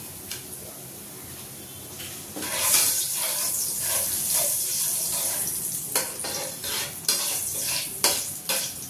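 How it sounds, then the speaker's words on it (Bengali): Bay leaves and whole cumin crackle in hot oil for a chicken dish, a close hissing sizzle with repeated scraping stirs and clattering bursts swelling and fading. "এর মধ্যে আমি দিয়ে দিচ্ছি একটু তেজপাতা আর একটু গোটা জিরে দিলাম ফোড়ন"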